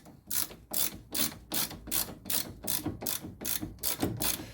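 A ratchet snugs down bolts on the front wheel hub of a 2005 Ford Escape during a wheel bearing and hub replacement, giving about ten quick, evenly spaced bursts of crisp clicking, close and loud, with no talk.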